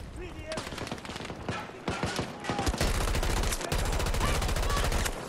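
Rapid automatic gunfire and bursts of shots from a modern first-person shooter, Battlefield 2042, building from scattered single shots into a dense, sustained barrage that fills the last half.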